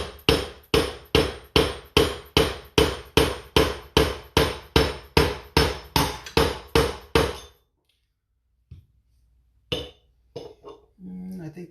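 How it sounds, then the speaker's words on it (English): A hammer taps a punch against a bearing extractor pin to drive out a bicycle freehub and disc bearing, about fifteen sharp, evenly spaced metallic strikes in quick rhythm, then quiet with a few faint clinks and light handling noises. "you're just going to use your punch and line it up with the pin of the extractor and tap"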